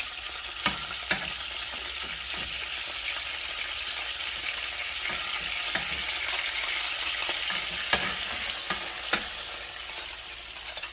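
Garlic fries in a pan as it is stirred, making a constant close sizzle broken by several sharp utensil scrapes and taps against the pan, with nobody speaking.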